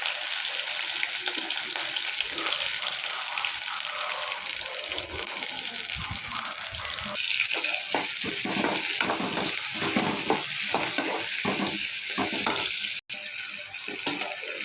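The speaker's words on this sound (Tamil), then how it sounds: "ஒரு கடாயில் எண்ணெய் விட்டாச்சு, காயட்டும். காஞ்சிடுச்சு. இப்போ வெங்காயத்தை சேர்த்துக்கலாம்." Onions dropped into hot oil in a kadai give a steady, loud sizzle throughout, with a burst of crackling as they settle and a sharp clack near the end.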